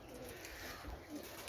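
Pigeons out in the sunshine, a couple of birds giving faint, soft coos over steady outdoor background noise for a brief moment.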